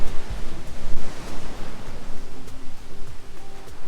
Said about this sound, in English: So the waves come crashing up underneath this thing